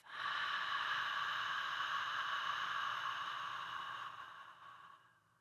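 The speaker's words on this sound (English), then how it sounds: "Take an exhale HA style through the mouth." Forceful open-mouth HA exhale during a yoga breathing exercise, a single sustained breathy rush of air lasting several seconds and fading out at the end, heard alone and close.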